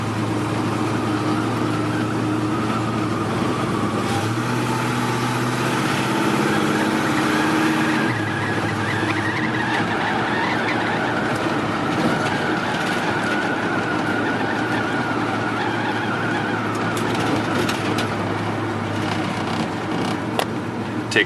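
A 1972 Chevrolet C10 Cheyenne Super pickup's engine runs steadily from inside the cab with the windows up on a back road, its drone shifting pitch as the truck works through the gears, with no talking over it.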